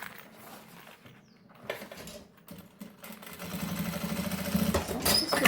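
A sewing machine stitches two pieces of a baby toiletry bag together, starting with short clattering bursts and handling noise, then settling into a fast, steady mechanical whir that grows louder toward the end.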